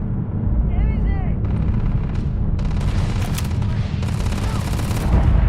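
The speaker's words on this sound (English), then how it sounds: "Open fire!" Loud gunfire and explosive booms in the space game Starfield, rapid shots going off during a fight, close and continuous, with speech mixed in.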